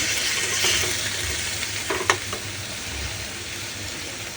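Meat frying with ginger, garlic and onion paste in a home kitchen: steady low sizzling with a few clinks and scrapes of stirring, one sharp knock near the middle, no talking.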